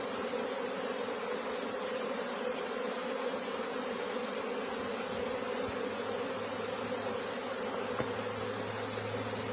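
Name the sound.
large honeybee swarm buzzing at a new hive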